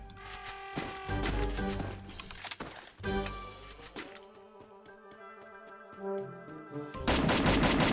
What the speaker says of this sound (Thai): ปืนลั่นสวย สวยครับ